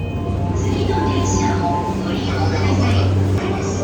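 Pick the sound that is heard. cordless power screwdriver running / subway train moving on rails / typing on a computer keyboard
subway train moving on rails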